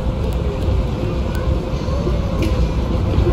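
Las Vegas Monorail train riding northbound between stations, a steady loud rumble and rolling drone inside the car with no clear breaks, heard up close throughout.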